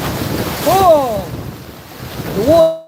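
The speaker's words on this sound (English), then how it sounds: "the waves come in under the hull and crash against the side and slap up underneath" Waves slap and crash against the hull of a sailboat under way in 15-20 knots of wind, with a loud whooshing rush and heavy wind noise, broken by a couple of short, rising whistling tones.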